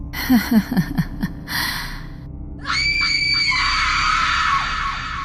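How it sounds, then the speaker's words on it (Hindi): A woman lets out a loud, sharp scream after a few short gasping breaths, the high shriek holding for a couple of seconds and then trailing off. "इस बार वो बहुत जोरों से चिल्लाई"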